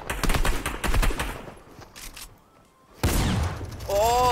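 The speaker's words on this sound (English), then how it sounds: "Oh, there are grenades!" Video game battle with rapid bursts of automatic gunfire up front, a quieter lull, then a sudden loud blast from a grenade followed by ringing tones, with brief voice fragments mixed in.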